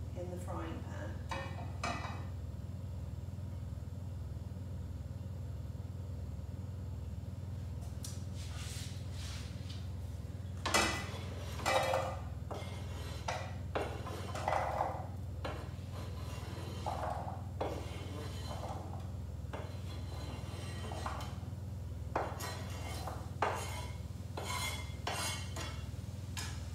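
Vegetables for a vegetable chilli con carne tipped into an oiled frying pan and left to warm through, with a low steady hum under clattering, scraping utensil knocks against the pan, loudest in the second half, and speech over it.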